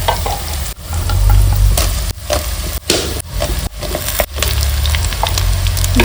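Drumsticks (moringa pods) frying in oil with onions, a loud close sizzle interrupted by several sharp stirring knocks and scrapes of a spatula against the pan.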